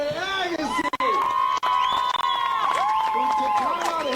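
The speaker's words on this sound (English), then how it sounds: "Big round of applause for Andre Agassi," A crowd at a pickleball match cheers loudly for Andre Agassi, with many overlapping shouting voices rising and falling in pitch over steady clapping, continuous and close throughout.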